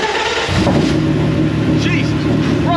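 A TVR sports car engine fires up after a brief crank, then revs loudly and roughly at close range, a deep throbbing roar that rises and falls, with voices talking over it.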